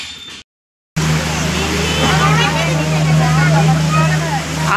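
A motorboat engine drones loud and steady on the Kinnerasani reservoir near Palvancha, running continuously after a brief silent gap, with people talking over it.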